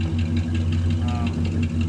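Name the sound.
Cadillac Eldorado exhaust rumble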